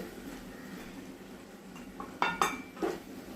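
Beef being stirred with coriander, chilli, black pepper and fennel powders in a pot, a few clear metallic clinks and scrapes of a utensil against the pot over a quiet kitchen background.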